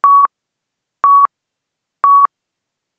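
A quiz countdown timer beeps at a steady one-per-second rhythm, each short, clear electronic tone sounding alone against silence, four beeps in all.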